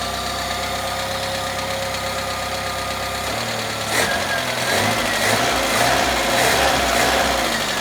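Citroen C25 camper van petrol engine idling steadily after an ignition repair, with coils, wires and spark plugs replaced; a continuous close hum with a brief change in tone partway through, no talking.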